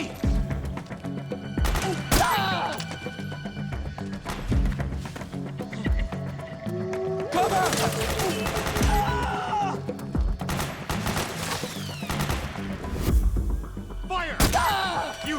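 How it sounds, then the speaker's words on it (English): Gunfire in the Metal Gear Solid 4 video game: sustained battlefield volleys and bursts with thuds and crashes over a constant loud mix, while voices shout commands through the fighting. "Suppressing fire! back me up!"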